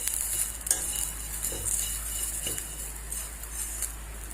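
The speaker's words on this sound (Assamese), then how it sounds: "এতিয়া মই এইখিনি ভালকৈ লৰাই ল'ম আৰু 5 মিনিট সময় মই এইখিনি কম জুইত ভাজি ল'ম" A spoon stirs a snack mixture frying in a pan over a low flame, giving a faint, steady sizzle with a few soft scraping knocks.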